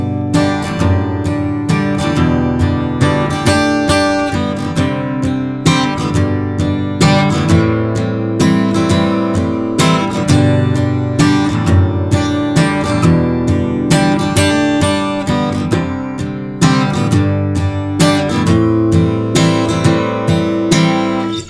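Acoustic-style guitar strums the verse chord progression of a song, loud steady chords in an even rhythm that carry on alone for the whole stretch.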